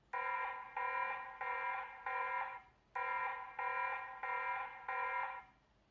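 A TP-Link Tapo C200 security camera's alarm sounds loud and close, a harmonic siren-like beep pulsing in two runs of four even bursts with a brief pause between, alone with no talk.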